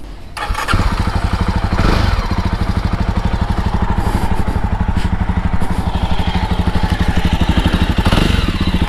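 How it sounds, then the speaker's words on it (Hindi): A Jawa Perak motorcycle with dual exhaust fires up, then settles into a close, loud, steady thumping idle with an even rhythmic beat throughout. "एंड काफ़ी स्मूथ साउंड करती है बाइक"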